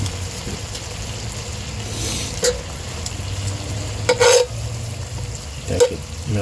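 Butter melts and sizzles in a Lodge camp Dutch oven beside onions, giving a steady, fairly loud frying hiss with a low rumble beneath, punctuated by a few scraping stirs and clinks, with no talking.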